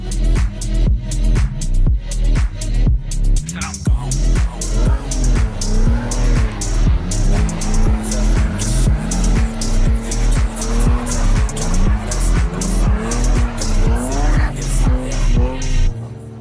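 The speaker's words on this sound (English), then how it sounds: "parking lot snow drifting" A car drifting on snow in a parking lot, its engine revving hard and wavering in rhythmic surges while the tires squeal and skid, loud and close throughout the whole stretch, with no voices.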